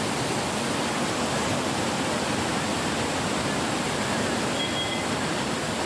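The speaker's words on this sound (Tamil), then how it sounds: "தண்ணி ஓடுற சத்தம் சலன்னு கேட்குறதுக்கு இனிமையாக இருக்கும்." Steady rushing water at Manimuthar Dam near Manjolai, a continuous full hiss like a stream or small fall pouring nearby, unchanging throughout with no voices.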